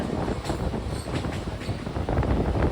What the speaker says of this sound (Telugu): ఈస్ట్ కోట్ ఎక్స్ప్రెస్ ట్రైన్ ఇది